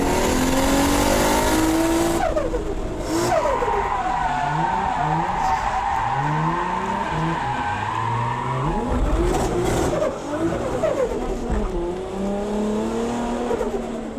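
A car drifts around a track, tires squealing in long wavering skids as the engine revs rise and fall, loud and close throughout with no voices.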